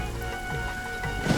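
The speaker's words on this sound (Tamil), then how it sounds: "இப்படி மழை வரும்னு நான் நினைக்கலங்க." Rain falls as a steady hiss with scattered drops, continuous and moderately loud, swelling near the end, with no one speaking.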